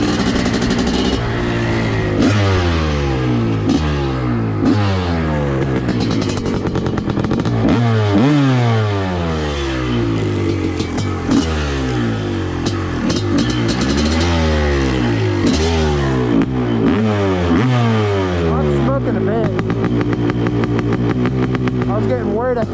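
A Honda CR500 two-stroke dirt bike running hard and revving repeatedly, its engine pitch climbing and dropping in rapid close-up surges throughout.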